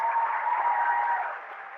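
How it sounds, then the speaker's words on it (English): A brief burst of crowd applause for returning state champions at a high school class day, a dense steady clapping that fades slightly toward the end. "give these guys a round of applause"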